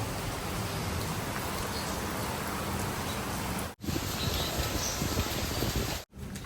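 Morning rain falls in Kutch as a steady broadband hiss. The sound is even and unbroken apart from two brief dropouts, and no one speaks.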